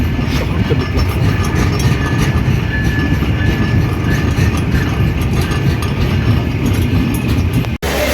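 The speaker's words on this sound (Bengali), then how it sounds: "725 সুন্দরবন এক্সপ্রেস প্রবেশ করলো 20 মিনিট বিলম্ব নিয়ে শহরতলি প্ল্যাটফর্ম" The Sundarban Express 725 passenger train rolls into a station platform, a loud, continuous rumble of wheels and carriages with rattling, clanking mechanical noise close by, steady throughout.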